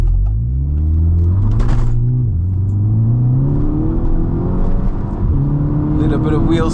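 A 263 bhp VW MK6 GTI launching hard from a standstill on a slight uphill with some wheel spin: a loud, close engine roar climbing steadily in pitch, with brief dips at gear changes.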